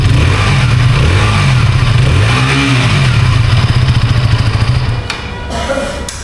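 A KTM Duke 160 motorcycle idles with a deep exhaust rumble at a showroom launch event, revs up and back down once in the middle, then the engine note fades near the end.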